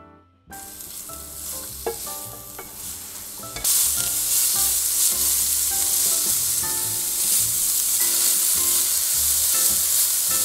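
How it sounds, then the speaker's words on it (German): Carrots sizzle loudly in a hot pan with oil, with a few stirring scrapes, and the hiss grows louder partway through. "jetzt die Karotten in einer Pfanne mit etwas Öl dann anbraten"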